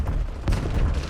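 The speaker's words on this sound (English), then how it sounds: "Tossing Semtex grenade." A Semtex grenade detonates in a first-person shooter video game, giving a brief, muffled blast that rises out of dense game noise in a short burst.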